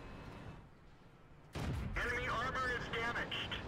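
A World of Tanks tier 6 tank cannon goes off with a sudden loud boom midway through, followed by ringing mechanical reload and engine noise in the video game, after a quiet stretch with faint background hum.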